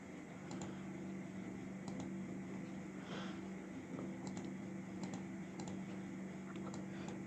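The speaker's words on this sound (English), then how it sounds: "I'm just typing here random." Soft, steady keystrokes on a computer keyboard while entering sign-up details, a quiet continuous patter of scattered clicks with no voice over it.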